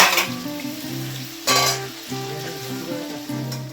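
Prawns fry in a pan with a soft, continuous sizzle, partly masked by louder tonal music playing over it.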